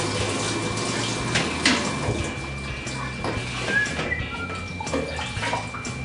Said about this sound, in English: Grab our spoon and rinse it off.